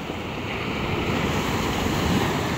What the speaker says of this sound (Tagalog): Beto na po yung alon,